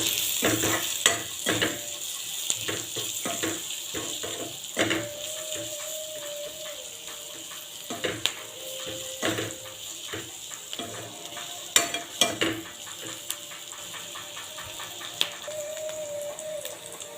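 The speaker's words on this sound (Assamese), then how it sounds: "এয়া পিঁয়াজখিনি ভজা হৈ গ'ল।" Onions sizzle in hot oil in a pan for an Assamese dried shrimp chutney, with repeated scraping stirring strokes and clanks of a utensil against the pan over a steady frying hiss, close up and without speech.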